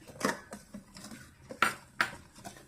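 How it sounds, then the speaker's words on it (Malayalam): A spoon clatters against a pot while aval payasam with sugar is stirred, giving several sharp metallic scrapes and clinks in an uneven rhythm, close and fairly quiet. "നന്നായി ഇളക്കി കൊടുക്കണം"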